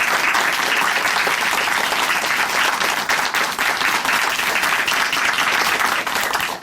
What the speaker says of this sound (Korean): 다시 한번 귀한 간증 들려주신 자매님께 큰 박수 보내드리겠습니다.